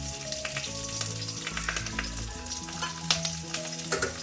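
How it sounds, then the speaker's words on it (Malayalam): Curry leaves and chopped onion hit hot oil in a pan, producing a loud, continuous sizzle and frying hiss with occasional stirring clatter, close and uninterrupted by speech. "ഇതിലേക്ക് കുറച്ച് കറിവേപ്പില, ഒരു സവാള അരിഞ്ഞത് ഇത് ഇട്ട് കൊടുക്കാം."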